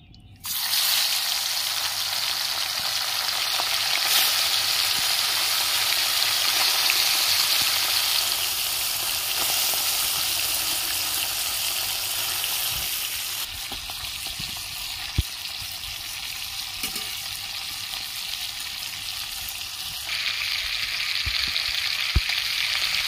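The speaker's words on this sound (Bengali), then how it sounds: "কড়াইয়ে তেল গরম হয়ে গেছে, এবার আমি মাছগুলো ভেজে নিচ্ছি।" Mourola fish frying in hot oil in a wok, a steady loud sizzle and crackle running throughout with a few sharp pops near the end, no voices.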